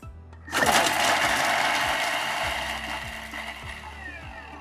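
A food processor chops onions and curry leaves at speed 7, a sharp loud whirring burst that starts suddenly and runs about four seconds, with a rhythmic low knocking beneath.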